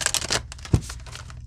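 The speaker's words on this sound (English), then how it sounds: "And we're just going to shuffle here." A short crisp riffle of cards being shuffled, a quick flurry of papery flicks followed by a soft thump.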